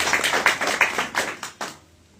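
An audience at a local political program claps loudly in a burst of several uneven rounds that fade out within about two seconds.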